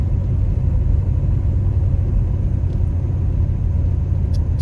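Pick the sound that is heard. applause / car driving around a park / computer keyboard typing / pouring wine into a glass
car driving around a park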